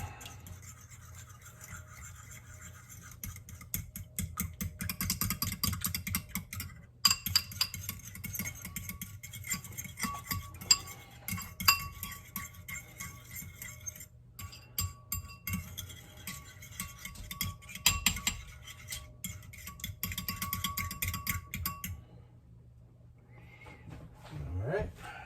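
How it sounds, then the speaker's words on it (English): Egg being beaten in a bowl with a utensil, giving a fast, steady scraping and clinking rhythm that runs close and fairly quiet for most of the stretch, with low background hum and occasional sharper taps. "now, let's beat this egg"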